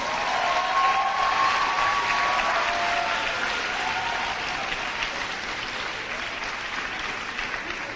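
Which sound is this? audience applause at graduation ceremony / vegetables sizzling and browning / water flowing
audience applause at graduation ceremony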